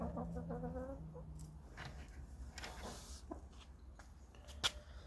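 A hen takes a dust bath among farm chickens, giving a few soft, close clucks at the start followed by faint scratching and rustling against quiet outdoor background.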